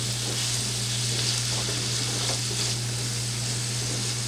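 Beef sizzles and fries steadily in a hot skillet, a constant close crackle with a low hum underneath and no talking.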